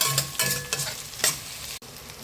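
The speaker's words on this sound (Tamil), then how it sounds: "வெங்காயம் வதங்கிட்டு இந்த அளவு வதங்கினா போதும்" Onions for masala dosa sauté in a hot pan, giving a soft sizzle with a few scraping stirs of a spatula, close and steady with no talking.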